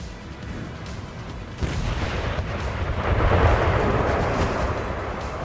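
Artillery fire from a Total War: Empire battle rumbles as a broad, continuous roar of cannon shots and impacts landing on troops, swelling louder partway through with no talking.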